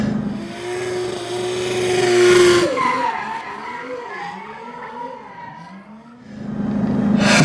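A McLaren 570S with Track Pack, 570 PS, accelerating hard from 100 to 200 km/h, the engine note loud and close, rising and shifting with a brief dip before climbing again.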